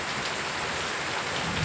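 Steady rain pours down in a village, a dense, loud and continuous hiss of drops on surfaces with no voices.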